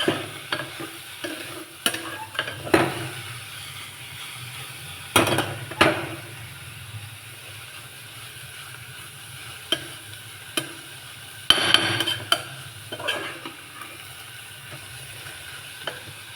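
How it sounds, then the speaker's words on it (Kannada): Greens and lentil mixture for a South Indian soppina saaru and palya being stirred and fried in a pan: a soft constant sizzle under repeated sharp scrapes and clanks of a spoon against the metal pan, close up, no talking. "ಚೆನ್ನಾಗಿ ಹುರ್ಕೊಳ್ಳಿ."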